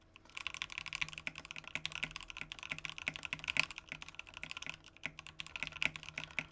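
Satisfaction75 mechanical keyboard being typed on, a steady stream of soft, low-pitched clacks close to the microphone, fairly quiet with no voices.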